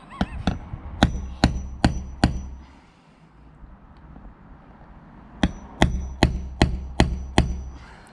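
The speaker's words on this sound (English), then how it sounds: "How does it feel, you hammering our van?" A hammer strikes a centre punch against the metal body of a van in two sharp, evenly spaced runs of about six ringing blows each, close and loud, with a short pause between them.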